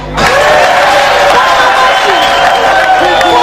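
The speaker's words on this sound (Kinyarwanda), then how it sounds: "mubakomere amashyi" Concert audience in Muyinga bursts into sustained applause and cheering over steady music at a show, dense and loud throughout.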